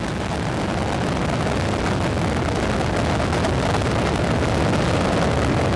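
Space Shuttle Endeavour's three liquid-fuel main engines roaring during launch toward orbit, a loud, continuous broadband rumble with wind-buffeted crackle that holds steady and strong throughout.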